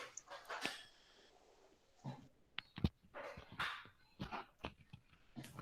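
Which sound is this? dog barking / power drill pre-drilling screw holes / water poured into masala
dog barking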